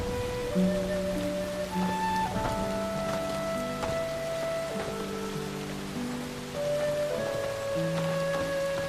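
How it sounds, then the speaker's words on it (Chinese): Steady light rain hisses on surfaces throughout, partly masked by a soft melodic music score playing over it. "下雨了"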